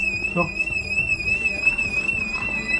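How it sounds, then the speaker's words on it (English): A shop alarm in London, set off during a robbery, sounds as a continuous shrill electronic tone while people shout nearby. "the clerk manages to pull the alarm"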